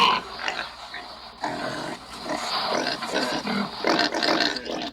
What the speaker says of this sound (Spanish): Acaban ustedes de escuchar el sonido de un marranito como Peppa Pig